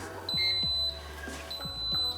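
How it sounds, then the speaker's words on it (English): A kitchen timer being set for five minutes gives a few brief, high electronic beeps, spaced a second or so apart, quiet and close in a kitchen with light handling sounds. "I'm setting my timer for 5 minutes."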